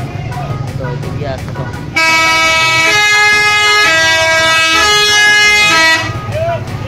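A telolet bus horn sounds a loud, sustained multi-tone melodic blast lasting about four seconds, cutting in sharply and stopping abruptly, with crowd voices before and after on a busy roadside.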